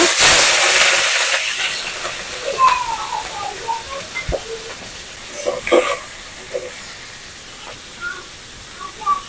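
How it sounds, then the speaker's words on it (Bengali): Shrimp hit hot oil in a wok over a clay stove, giving a loud burst of sizzling hiss at first that settles into a softer, steady crackle with scattered pops and light clinks. "আমি চিংড়ি মাছটা একটু ভাজে নেব।"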